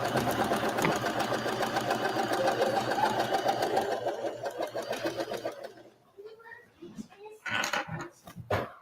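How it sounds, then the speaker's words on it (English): A sewing machine stitching flannel bean bags hums in a steady rapid whir for several seconds, then stops; afterward a voice and light handling noises follow with brief talk. "this machine was great to use to make these little bean bags"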